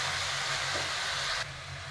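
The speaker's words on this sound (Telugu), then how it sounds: "ఇప్పుడు మనం కడిగి పెట్టుకున్న ఆకుకూర వేసుకోవాలండి, అంతే వేసుకోవాలి." Washed amaranth greens dropped into a hot pan, giving a loud steady sizzle and hiss that eases to a lower frying crackle partway through, close up with no talk.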